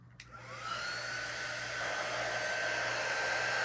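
A hair dryer blows on hair after a brief click as it switches on, its motor rising into a steady, close whine with a constant airy rush that holds loud and unbroken to the end, with no voices.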